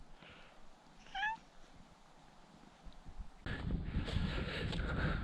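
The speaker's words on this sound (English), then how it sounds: "Forest cat in her right environment." A forest cat outdoors gives one short, faint meow against wind noise, followed by a louder stretch of rustling, windy outdoor ambience.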